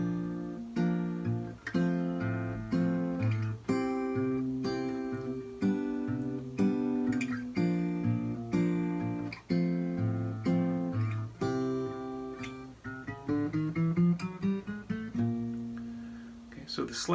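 Guitar playing slash chords, triads struck on the strong beats with single bass notes falling on the off beats, a steady, clear, close pattern of plucked chords and low notes lasting the whole stretch, no talking.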